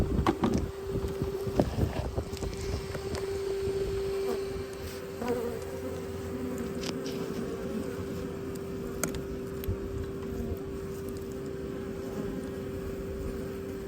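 Bees swarm inside an ancient 120-year-old chimney, making a dense, continuous buzzing drone that is close and steady, with occasional faint knocks and scrapes from work nearby.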